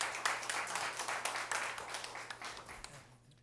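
An audience claps after a church lecture, producing a lively round of crisp, overlapping hand claps that gradually thins and fades toward the end.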